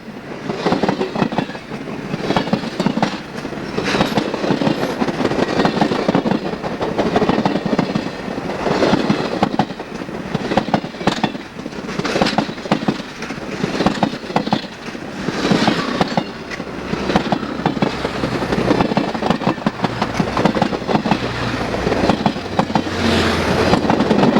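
Steam locomotive N&W 611 pulls three diesels and 25 passenger cars, rumbling steadily past with continuous clattering and rolling noise, loud and close, with no voices.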